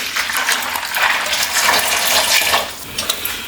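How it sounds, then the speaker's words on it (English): Freshly squeezed lemon juice and water pour into a container for strawberry lemonade, a close, continuous splashing gush with no talking. "Pour in that freshly squeezed lemon"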